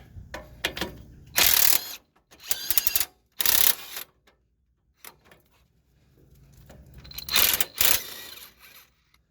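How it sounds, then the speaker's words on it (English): A wrench turns a nut on a stud held by a hex key on a 2003-2009 Toyota 4Runner rack and pinion, producing several short bursts of rapid metallic ratcheting clicks separated by pauses, close up. "The hex key will hold the stud in place and the wrench will turn the nut."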